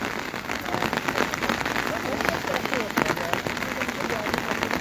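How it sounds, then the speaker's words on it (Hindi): Heavy rain pours steadily in Shimla, a dense continuous hiss of drops drumming on surfaces with no letup. "और ये देखिए किस तरह से झमाझम बारिश"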